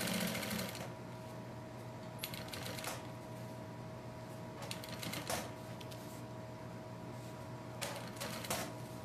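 Sewing machine stitching fabric piping with red thread, a steady fast mechanical whir with brief pauses and restarts, fairly close and quiet, no talking.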